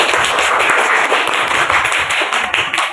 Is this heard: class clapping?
yes